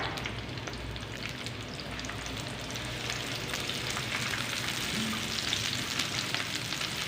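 Onions frying in hot oil, a steady dense sizzle with a crackling hiss that holds at an even level throughout, close and without any voices.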